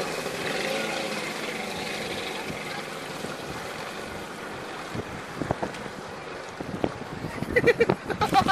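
A stand-up jet ski throttling on open water on the Fourth of July, its engine droning steadily under wind and water splash, then choppy bursts and slaps near the end as the rider works the throttle.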